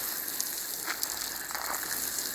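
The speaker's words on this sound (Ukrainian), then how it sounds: "Зараз цибульку проливаємо." Water poured over onion beds in a vegetable garden gives a steady, close hiss of spray and droplets, with brief splashier bursts as it falls on soil and leaves.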